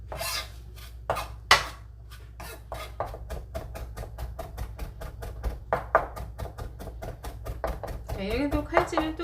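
Rapid knife chopping on a cutting board while garlic and green onion are minced finely for a Korean cooking certification practical exam, a fast, steady run of close, crisp taps that continues throughout, with a few louder knocks and brief speech near the end.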